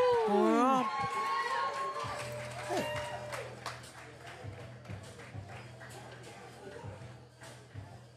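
Crowd at a natural bodybuilding championship amateur final cheering for a competitor, a loud burst of whoops and shouts at the start that settles into a scattered, ongoing crowd murmur with claps and calls, voices talking over it.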